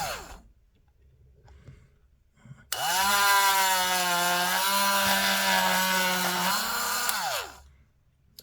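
A small power drill bores a hole in a plastic Land Raider Spartan tank model, whining at steady high speed for several seconds before winding down, close and loud, with faint handling noises before and after.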